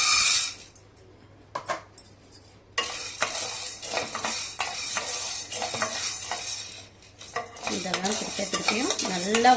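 Soybeans dry roasting in a pan over low heat, stirred with a utensil in repeated scraping strokes, dry rattling and light sizzle close up, with pauses between bursts.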